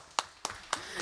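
Three sharp, evenly spaced claps ring out in a quiet room during a legislative assembly public debate on Minas Gerais highways, close and loud against low background hum.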